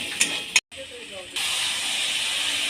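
Ground cumin and coriander frying with potato and soybean in a pan: a couple of sharp clicks and a brief silence, then a sudden, steady hissing sizzle that holds to the end.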